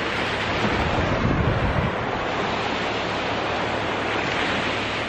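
Ocean waves wash onto the beach at the Amanpulo resort, a loud, steady roar of surf with wind buffeting the microphone throughout.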